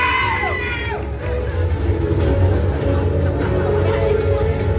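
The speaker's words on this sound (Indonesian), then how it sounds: "Berikan aplaus yang meriah" A crowd cheers and claps for a finalist at a grand-final pageant night, with whoops and shouting over a continuous roar, and a voice sounding briefly at the start.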